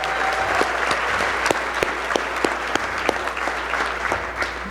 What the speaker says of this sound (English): let's give applause to everybody that came out to support all of us getting in tonight